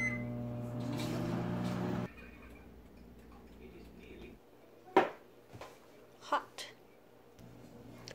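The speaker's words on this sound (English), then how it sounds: "so I'll put them back in the microwave for another 5 minutes." A microwave oven cooking scalloped potatoes hums steadily for a couple of seconds, then stops, followed by a few sharp clicks and knocks.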